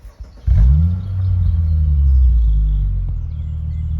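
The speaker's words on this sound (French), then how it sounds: "pour qu'on écoute un petit peu le son, parce que tu me dis c'est un échappement exclusif" A Mercedes C350 Lorinser with an exclusive exhaust fires up close by, a sharp start followed by a deep, steady low rumble that swells slightly and holds at idle, with no one speaking.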